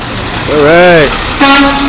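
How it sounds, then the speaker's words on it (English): A Berkeley Farms delivery truck sounds its horn twice at a street protest, a longer toot followed by a shorter one, loud and close against crowd noise. "So we got a Berkeley Farms driver who's honking in his support."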